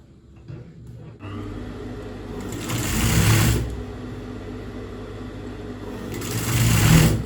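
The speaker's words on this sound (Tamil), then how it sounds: "இதுக்கு மேலே ஒரு தையல் நம்ம போடணும்" A sewing machine runs steadily while stitching invisible piping onto fabric, rising to two louder bursts of fast stitching with a quieter hum between them, close and with no one speaking.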